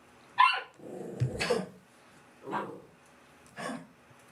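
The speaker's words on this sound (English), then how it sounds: "He's looking at her, just barking in her face" A puppy barks repeatedly in short, close bursts with growly yips, several separated barks over a few seconds with no talk.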